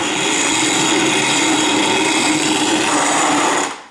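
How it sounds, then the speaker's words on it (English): A manual Country Living Mills grain mill grinds wheat in a continuous, loud, gritty churning that runs steadily for a few seconds and then cuts off abruptly. "this is a Country Living Mills wheat grinder. It's a manual one"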